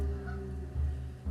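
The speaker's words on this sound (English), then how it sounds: "This is a male goose that's protecting his female." A male goose honks protectively over his mate, loud, close, low and harsh, with a few strong calls in a short burst and no talking.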